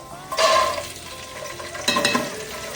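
Sliced onion and peanuts hit hot oil in a pan, a sudden loud burst of sizzling that eases off, then a second sharp flare as more goes in, crackling up close.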